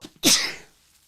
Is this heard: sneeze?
yes